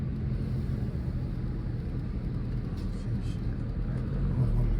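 A 2015 Chrysler 200 driving along outside, with a steady, continuous low road and engine rumble throughout and no clear revving.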